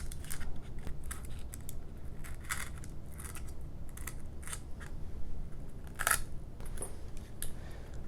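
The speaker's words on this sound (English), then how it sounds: "Cut these 2 parts away." Plastic model kit parts for a Mighty Mini FW-190 are snipped from their sprue with sharp, scattered clicks and snaps over a low background hiss, one crisp cut standing out near the end.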